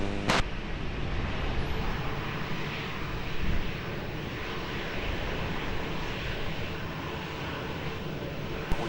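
An airliner takes off at Lisbon Airport with a steady, broad jet engine roar heard from a distance. It holds at an even level throughout, joined by a brief high click near the start.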